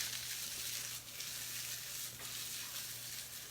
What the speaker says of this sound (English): heat it up and sort of brown it up in a skillet